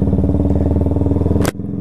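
A Yamaha Fazer 250 motorcycle from 2021 chugs along at night with a steady, pulsing engine note, still cold, loud and close, until a sharp thump and the sound cuts out abruptly.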